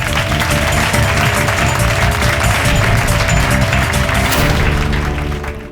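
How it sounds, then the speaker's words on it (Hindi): A studio audience at a courtroom drama show claps loudly and continuously in a dense burst that holds for several seconds, then tapers off at the end. "तालियां!"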